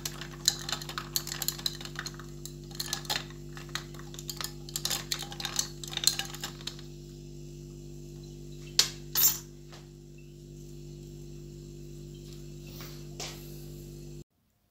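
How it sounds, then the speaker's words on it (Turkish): A spoon stirs coffee in a glass, a run of quick light clinks and taps close by that stops partway through, followed by a few isolated knocks over a quiet background. "Hafiften bir karıştırıyorum ondan sonra"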